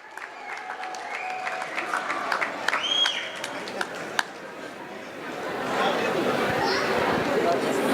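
Applause builds at a school graduation ceremony and cultural festival, rising under crowd chatter and nearby voices, with a clearer swell of clapping in the final seconds.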